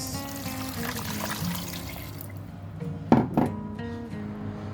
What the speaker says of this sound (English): the next step is to add in water and start cooking it